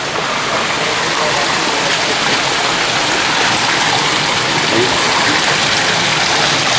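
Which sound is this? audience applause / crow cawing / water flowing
water flowing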